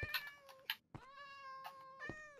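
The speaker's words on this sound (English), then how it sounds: "Just spawn some cats." Several Minecraft cats meow in quick succession, short clear cries spaced a fraction of a second apart, close and alone.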